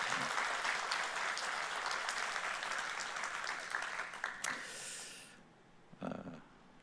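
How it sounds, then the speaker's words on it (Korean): A church congregation applauds to give glory to God, steady close clapping that thins and fades out after about five seconds, followed by a brief final patter. "우리 같이 한번 박수로 하나님께 영광 격려를 돌리겠습니다"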